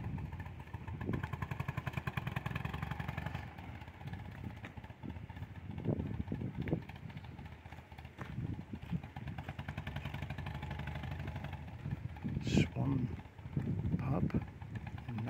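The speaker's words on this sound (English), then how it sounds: "Motorbike and sidecar combination." A motorbike with a sidecar runs past beside a canal near Alrewas and Fradley Junction, a steady mid-pitched engine drone with clattering bursts heard from nearby for the whole stretch.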